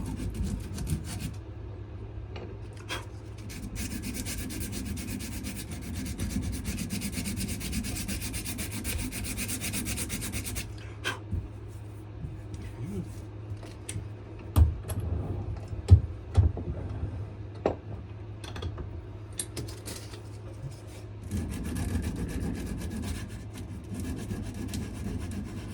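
A wooden knife handle is rubbed with sandpaper in long, steady strokes. The gritty scraping goes on continuously, close by, with a low hum underneath and a few sharp knocks partway through.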